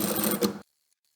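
Sewing machine stitching fabric beside interfacing for a folding card wallet, a short fast mechanical whirr lasting about half a second before stopping abruptly into silence.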